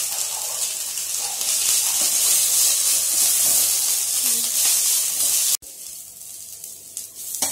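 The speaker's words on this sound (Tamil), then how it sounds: "முருங்கைக்கீரை ஒரு ரெண்டு நிமிஷம் வதங்கினா போதும்," Drumstick leaves sautéing in a hot pan give a loud, steady hissing sizzle that cuts off abruptly, leaving a quieter stretch with faint scraping and clinks.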